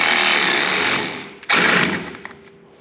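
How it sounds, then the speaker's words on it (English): Carbide saw blade grinding through a seized strut mount bushing on a Dodge Ram truck, a steady loud harsh buzzing cut that briefly dips, then bites back in and trails off. "to our carbide saw blade here and see if we can get a bite in it. It's definitely cutting."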